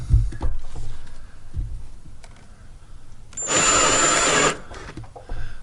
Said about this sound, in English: Those step drills go through that plastic really quickly, especially if they're sharp